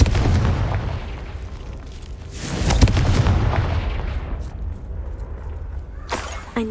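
Explosive spell blasts from Confringo in the video game Hogwarts Legacy, a loud booming burst with broad rumble followed by a decaying tail and a later smaller crack.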